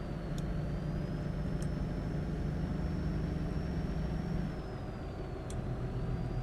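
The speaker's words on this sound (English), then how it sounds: "we can drag the window down for a bit more of a realistic outside ambient noise experience" Truck driving in the American Truck Simulator video game with the cab window rolled down, a steady low engine drone and road rumble with outside ambient noise, constant and moderately loud, with a few faint high clicks.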